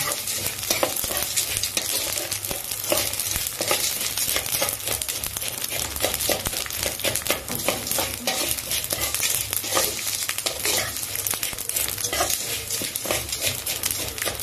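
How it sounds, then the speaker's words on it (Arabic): Vermicelli frying in a pan for rice is stirred steadily, a continuous close sizzle with crackling, scraping stir strokes throughout and no voices. "نحط الشعريه خليها ايدي كتير عشان الشعريه بتتلسع بسرعه"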